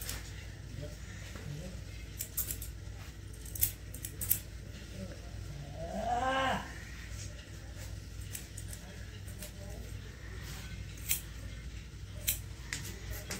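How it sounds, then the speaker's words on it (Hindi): Barber's scissors snipping a child's hair in a small barbershop, a steady stream of quick metallic snips close by over a constant room hum, with a brief louder swell midway. "कैंची चल रही है"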